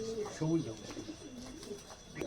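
Giribaz pigeons in a loft give low soft coos in short rolling phrases, close by, with someone talking faintly over them.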